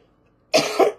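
A single rough cough bursts out after a moment of near silence, loud and close, with a second harsh push at the end.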